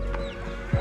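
Chickens cluck in a Philippine mountain village, with a short, close, low cluck near the end over a steady background hum.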